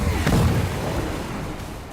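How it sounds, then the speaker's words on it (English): A BTR-80A's autocannon fires in a video game, a close, loud booming shot followed by a decaying rumble, heard alone. "The BTR-80A's autocannon packs a solid punch for a vehicle of its rank."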